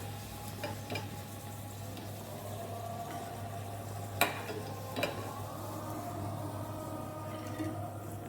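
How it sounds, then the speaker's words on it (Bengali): Cabbage pakoras frying in hot oil, a steady low sizzle running throughout with a constant hum beneath and a couple of sharp clicks from utensils, no voices. "এভাবে আমি একে একে সবগুলো পাকোড়া ভেজে নেব"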